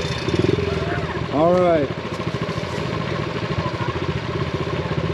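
Dirt bike engine in the DayZ video game idling and chugging steadily, with one brief louder rev surge, heard under a voice speaking.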